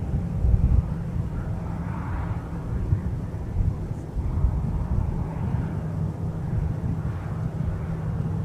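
A Southwest airliner taxiing at Minneapolis–St. Paul airport, a steady low rumbling jet engine drone heard from a distance with some wind buffeting on the microphone, continuous and without talk.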